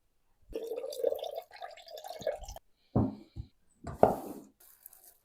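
Water pours and trickles from a bowl of soaked rabbit meat in short bursts, with drips and splashes between pauses.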